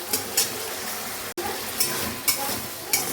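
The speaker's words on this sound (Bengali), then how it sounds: "মশলাটাকে এখন কষিয়ে নিচ্ছি ভালো করে" Ground spice paste with onion paste and garlic sautés in a pan, an even close sizzle broken by several short stirring scrapes, with one brief dropout midway.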